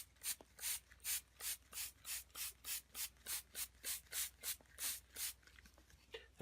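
Carpet and upholstery shampoo sprayed onto a pet stain in a rug, a rapid train of about fifteen soft, evenly spaced hissing pumps, close and fairly quiet.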